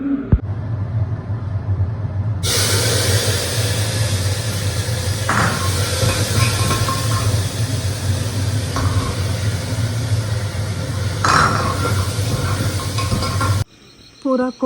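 Pressure cooker steadily hissing steam on a home kitchen stove while dinner is prepared with tomatoes, potatoes and soya chunks, a loud continuous hiss with low rumble that runs for most of the stretch before cutting off near the end.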